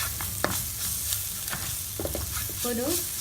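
Onion masala with turmeric powder sautéed in a pan for potato bonda, low sizzling under repeated scraping stirs, with a brief faint clink or squeak near the end.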